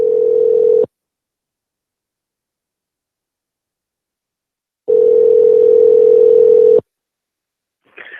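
Telephone line tones on a call being placed: a short steady tone, a few seconds of silence, then a longer steady tone, followed by a brief faint sound at the very end.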